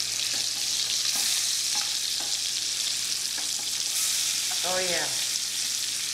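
Mahi mahi fillet searing with spices in a hot pan, a steady broadband sizzle running throughout at close range with a few clinks, while someone briefly speaks near the end.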